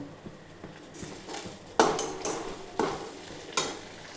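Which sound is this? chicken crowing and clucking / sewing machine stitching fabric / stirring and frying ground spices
stirring and frying ground spices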